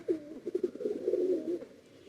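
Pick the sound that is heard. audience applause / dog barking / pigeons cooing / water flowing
pigeons cooing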